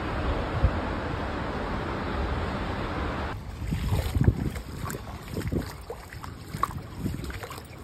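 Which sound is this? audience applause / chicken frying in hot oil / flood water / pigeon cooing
flood water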